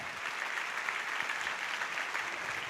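Church congregation giving a sustained round of applause, a dense, even wash of clapping heard from a distance at low level throughout.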